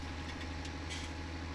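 In Farming Simulator 17, a tractor engine idles with a faint, steady low rumble and hum that stays even throughout.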